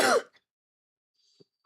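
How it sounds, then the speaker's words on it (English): One short, close throat clear with a cough-like burst at the start, followed by near silence and a faint click. "my cough, it's not leaving me today."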